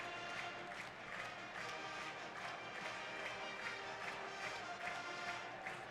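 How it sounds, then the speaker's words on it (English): Crowd at a college ice hockey game between Michigan and Wisconsin in an arena, a steady wash of cheering and chatter with scattered shouts, fairly distant and continuous throughout. "What a jovial crowd here."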